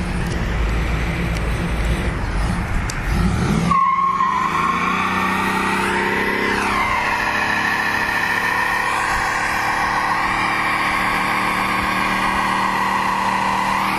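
A 1972 Ford Gran Torino with a Keith Kraft race engine launches hard; rough idling and tire noise give way to a loud, sustained engine roar whose pitch climbs steadily as the car pulls away.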